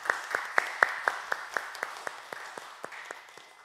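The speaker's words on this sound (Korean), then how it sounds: "우리 기쁨이요 생명이신 하나님께 영광의 박수 올려드리시겠습니다" Worshippers at a Sunday church service clap for God, a quick run of about a dozen sharp, evenly spaced claps that gradually soften and slow as they fade out.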